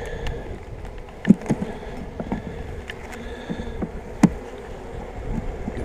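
A dense, close buzzing of many honey bees humming steadily during a hive sugar shake, with a couple of sharp knocks or thumps standing out.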